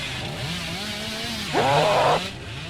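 Hillbilly's chainsaw in Dead by Daylight idles with a wavering buzz, then revs up into a loud, harsh burst for about a second before settling back down.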